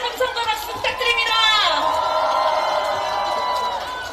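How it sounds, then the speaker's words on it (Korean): At a Korean election-eve political rally, a large outdoor crowd cheers and whoops and builds into a sustained roar, with a loud voice over a loudspeaker running through it. "우리 최고위원 정청래 의원님을 다시 한번 큰 함성과 박수 부탁드립니다"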